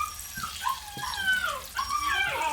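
A dog whines and whimpers in rising and falling tones, close by, with faint water running underneath.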